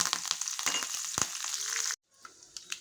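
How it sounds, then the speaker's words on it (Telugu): Mustard seeds, cumin and chana dal fry in about two tablespoons of oil in a small kadai for tempering, giving close sizzling with sharp crackles and pops. The sound cuts out briefly, then returns as scattered popping. "చిన్న కడాయి పెట్టేసుకొని దాంట్లో ఒక 2 టేబుల్ స్పూన్ అంతా ఆయిల్ వేసేసుకొని, ఆవాలు, జీలకర్ర, కొంచెం శనగపప్పు"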